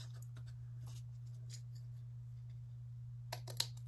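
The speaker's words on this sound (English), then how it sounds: "I don't want my pinking shears, I want my straight scissors." Straight scissors cutting paper for a handmade junk-journal card: a few soft, faint snips spread across a quiet room with a steady low hum, with a sharper cluster of cuts near the end.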